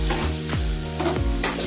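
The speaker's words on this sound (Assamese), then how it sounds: "খালি চিম্পলকৈ এইকেইটা ভাজি দিব লাগিব মচমচীয়া হোৱালৈকে।" Chana dal pakoras frying in hot oil over a medium flame, a steady, dense sizzle with a few bubbling surges, close and continuous throughout.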